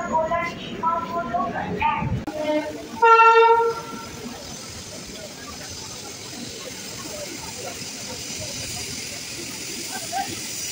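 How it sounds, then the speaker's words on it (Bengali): A Rajdhani Express bound for New Delhi from Sealdah gives a loud, brief horn blast after some nearby voices, then a steady rushing hiss of the passing train carries on alone for several seconds. "আর এই দেখো রাজধানী এক্সপ্রেস যাচ্ছে, এই দেখো এটা নিউ দিল্লি যাবে এটা।"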